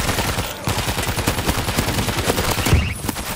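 Automated turret deployed in the World War Z video game firing rapid, dense bursts of gunfire that continue loud and close with barely a pause, punctuated by heavier impacts.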